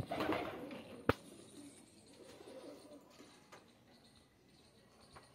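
A pigeon coos softly nearby, a low murmuring call near the start, with a sharp click partway through and quiet background noise afterward.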